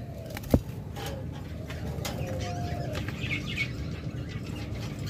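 Diamond doves kept as caged pairs give soft coos among chirps, with a sharp wing flap near the start and a constant low background murmur.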